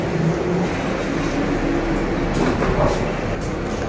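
Metro train rumbles steadily with a broad, continuous roar of wheels and motors, loud and close, with faint creaks and no clear speech.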